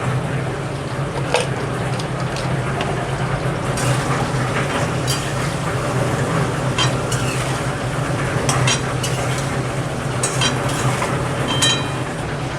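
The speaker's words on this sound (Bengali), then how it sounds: "আমি একটুখানি নুন দিয়ে আলুগুলো লাল লাল করে ভেজে নেব" Potatoes frying in oil with salt and turmeric for dum biryani, a steady dense sizzle with occasional metallic clinks of a utensil stirring the pan.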